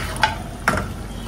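Fish frying in a pan, a soft steady sizzle broken by two brief louder crackles or stirring scrapes within a second or so.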